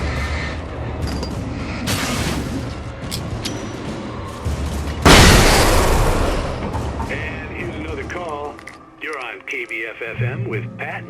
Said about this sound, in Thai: ระเบิดแฟลชนี่เป็นอาวุธทำลายด้วยแสงนะครับ